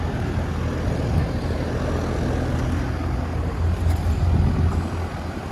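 A 2020 Armstrong Air 3-ton central air conditioner running outdoors, a steady, fairly loud broadband whooshing hum from the fan and compressor, constant throughout with slight swells.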